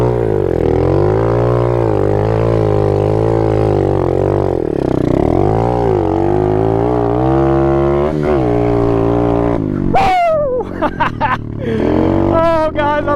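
A pit bike in second gear, its engine loud and near, revving through long rising and falling pulls as the clutch is dumped, then cutting out into short bursts and a voice at the end.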